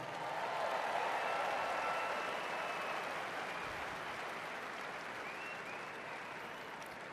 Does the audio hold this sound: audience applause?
yes